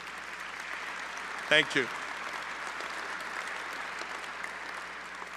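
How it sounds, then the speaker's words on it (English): A gala audience gives a sustained round of applause, a broad, even wash of many hands clapping at a steady level throughout, with a short spoken phrase rising briefly above it. "So how about giving yourselves a huge round of applause?"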